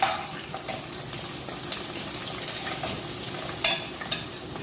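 Onions and chillies fry in a pan for a chicken biryani, a quiet steady sizzle broken by a few light scrapes of a spatula.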